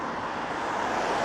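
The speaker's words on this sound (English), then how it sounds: "Sorry about the traffic noise." Steady road traffic noise in Blackpool, an even, continuous broadband roar of passing vehicles with no clear breaks or distinct events over a short stretch.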